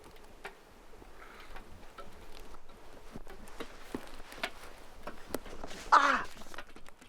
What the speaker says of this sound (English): Ah, that's a wasp.